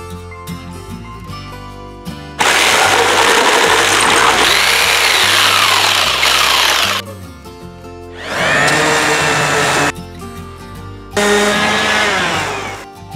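A power tool cuts away excess wood on a small DIY roof canopy build, with loud whining bursts of a few seconds each separated by quieter pauses, close by.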